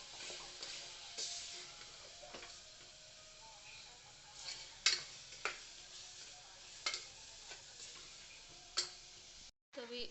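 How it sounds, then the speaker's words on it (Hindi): A spoon stirs cooked tomatoes, dry spices and salt in a pan, giving quiet scraping strokes and a few sharp taps over a soft sizzle, with a brief dropout near the end. "टमाटर पकने के बाद मैंने सारे सूखे मसाले डाल दिए। अभी इसको अच्छे से मिक्स कर लेंगे।"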